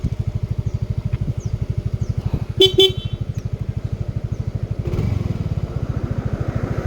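A motorcycle engine runs throughout with a steady, close, chugging idle pulse and a slight surge near the end, broken by two short horn toots midway.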